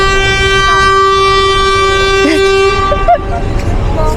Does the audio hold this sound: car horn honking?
yes